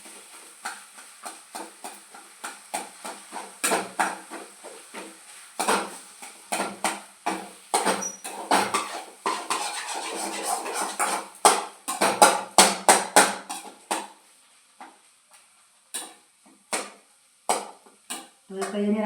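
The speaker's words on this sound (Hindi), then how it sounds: "तो ये मेरा मसाला फ्राई हो रहा है" A spiced potato masala is stirred in a pan, a run of quick, sharp scraping and clattering strokes in uneven bursts, close and fairly loud, with short pauses between.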